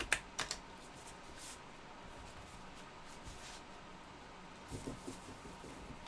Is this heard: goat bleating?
no